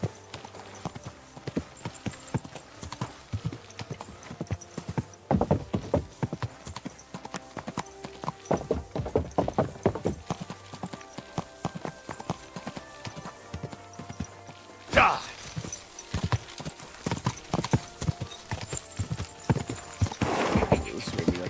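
Horse hooves clip-clop at a slow, steady walk in Kingdom Come: Deliverance 2, a medieval role-playing game, with a brief whinny and a denser burst of steps midway amid ambient game sound.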